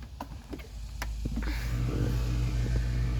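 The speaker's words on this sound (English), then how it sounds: "once you change your battery, you gotta do is just press your brake and press the start button" A car engine starts up after a battery replacement, a brief cranking burst followed by a steady low rumble of the engine settling into idle, close by with no talking.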